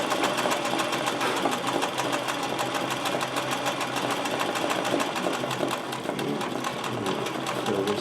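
A sewing machine stitching embroidery runs steadily and close up, its fast needle chatter continuous and even throughout, with no talking.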